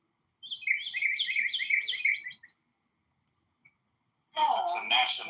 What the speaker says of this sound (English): I'm listening to the birds chirp in the background.